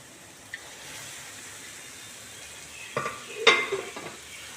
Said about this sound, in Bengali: ভালো করে ভাজতে হবে মাংসটাকে মশলাগুলোর সাথে